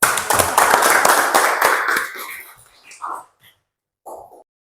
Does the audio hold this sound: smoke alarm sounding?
no